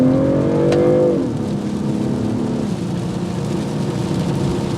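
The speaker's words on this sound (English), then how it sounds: "Downshift a bit, and here we go" A 2022 BMW M340i sports sedan pulls hard after a downshift, its engine note rising and then settling into a steady, loud drone with road and wind roar, heard from inside the car without talk.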